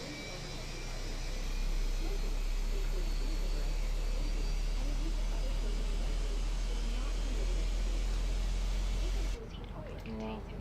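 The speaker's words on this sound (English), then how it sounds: "Now we're starting the engine." Airbus A320 jet engines starting, heard as a loud, steady broadband roar and whine with a deep rumble beneath that holds for about nine seconds, then drops away abruptly.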